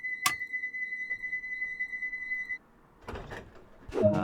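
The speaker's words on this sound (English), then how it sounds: "Close the doors." Train doors closing on a Bakerloo Line service in Train Sim World 2: a sharp click, a steady door-warning tone for a couple of seconds, then rumbling and thuds as the doors slide shut, with no talk.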